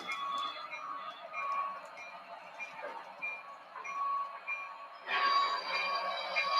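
Model train engines run steadily with a whining electric hum and high tonal beeps, growing louder and brighter near the end.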